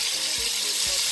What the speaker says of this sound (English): in cooking the shrimps or frying the shrimps